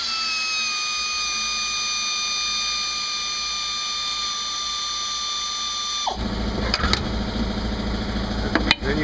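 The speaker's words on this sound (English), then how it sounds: "if you happen to have a air wrench, you can go like this." An air wrench whines steadily at a high pitch while loosening a shock absorber nut on a Ford Mustang's rear suspension, then cuts off into clanking, rattling metal handling nearby.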